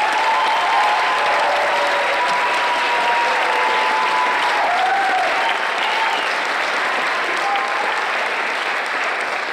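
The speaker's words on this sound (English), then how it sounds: "How about a nice round of applause for these students?" A large crowd at a middle school awards ceremony claps steadily and continuously, a dense, even wash of applause filling the hall throughout.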